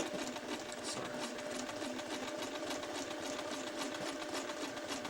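A sewing machine runs a narrow zigzag stitch, attaching stretched elastic to underwear, in a steady fast whirring hum with a rapid needle chatter, close and continuous with no voices.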